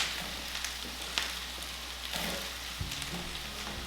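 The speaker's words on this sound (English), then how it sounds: "Then we're gonna add the sun-dried julienne tomatoes." Sun-dried julienne tomatoes frying in a pan for chicken Alfredo, a steady close sizzle with light stirring clicks and soft knocks, no voice.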